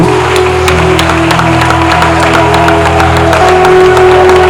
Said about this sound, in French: Est-ce qu'on peut encore célébrer Jésus par nos acclamations?